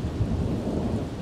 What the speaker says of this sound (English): can you imagine living on the water with this sort of storm?